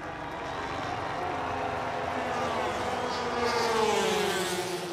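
A MotoGP motorcycle engine drones steadily as the bike crosses the finish line on its rear wheel during a race, a sustained high mechanical whine with shifting pitch heard amid broadcast ambience.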